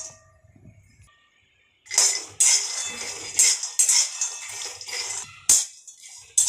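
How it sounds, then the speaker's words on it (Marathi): Peanuts dry-roasting in a pan rattle and clatter in bursts as they are tossed and stirred, bright and close, after a quiet start. "तर शेंगदाणे आता आपण भाजून घेऊया इथे।"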